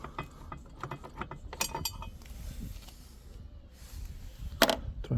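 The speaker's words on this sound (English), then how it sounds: "When the bolt will be loose, you can remove it by hand." A ratchet loosens a long bolt on the 12V battery bracket of a Toyota C-HR Hybrid, giving short bursts of close, fairly quiet mechanical clicking and clinking with no talk.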